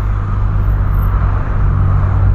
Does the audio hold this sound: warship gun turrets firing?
no